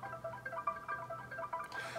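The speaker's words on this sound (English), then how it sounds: "The first was a marimba, which sounds like this" A quiet marimba line from a pop song production plays short, soft, scattered mallet notes over a low background hum for about two seconds.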